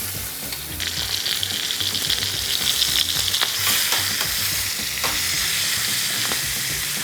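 Pork chops sear in hot oil in a pan, a loud, steady crackling sizzle that swells after the meat goes in and holds evenly, with faint clinks over it and no voices.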